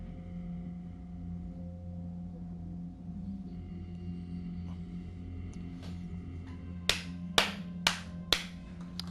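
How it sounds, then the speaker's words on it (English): Several sharp claps ring out near the end, following a quiet stretch of low steady hum. "that's my one clap to you"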